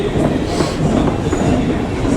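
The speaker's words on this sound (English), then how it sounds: "I'm going to go and take a tube train." Rumbling London Underground tube train running steadily close by, dense broadband roar with faint rail clatter throughout, no voices.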